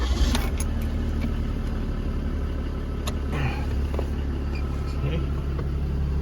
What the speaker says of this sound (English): All right, now I'll start the truck again.